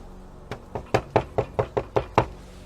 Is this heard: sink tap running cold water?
no